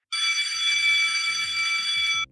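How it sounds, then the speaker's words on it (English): A bright, sustained electronic bell rings continuously for about two seconds, loud and close, signalling that a lesson's time is nearly up. "So that bell means we are almost out of time"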